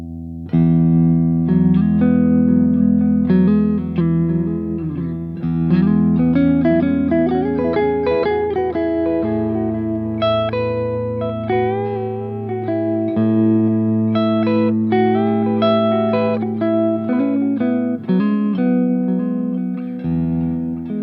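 Baum Wingman Vega electric guitar played as light-gain blues through a Klon-style Archer overdrive pedal, with bent lead notes and chordal phrases sustaining loudly and continuously with a touch of reverb, no voices.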